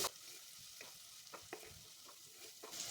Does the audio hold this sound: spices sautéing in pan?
yes